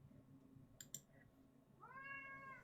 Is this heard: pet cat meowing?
yes